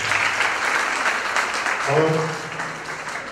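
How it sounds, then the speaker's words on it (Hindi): Audience applause at the Rajasthan Film Festival 2018 award show, a dense, steady wash of clapping from a crowd that runs throughout, with a voice speaking briefly over it. "एक बार आप अपने लिए जोर से ताली बजाएं"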